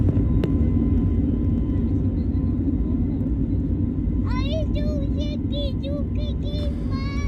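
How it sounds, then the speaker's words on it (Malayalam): Inside a passenger airplane on a flight from Delhi to Mangalore, a steady loud cabin engine rumble runs throughout while a voice chirps briefly toward the end. "അങ്ങനെ ഡൽഹിയിൽ നിന്നും അടുത്ത പ്ലെയിൻ യാത്ര ആരംഭിച്ചിരിക്കുകയാണ്."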